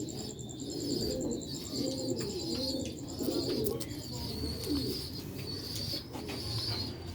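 Sialkoti and Ferozpuri pigeons coo repeatedly in low, rolling phrases close by, over a steady background hum with faint chirps and bird calls.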